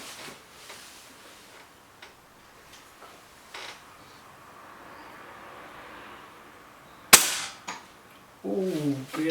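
A BSA Lightning SE air rifle fires once at a target, a single sharp crack standing alone over a quiet background, followed by brief faint clatter.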